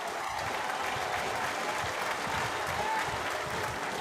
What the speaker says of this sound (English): Relieved applause from the stands as we enter the last minute of the regulation 90 minutes.